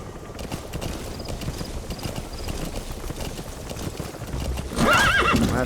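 In the video game Metal Gear Solid V, a horse's hooves clip-clop steadily, then a loud, close neigh breaks out near the end, with game ambience underneath.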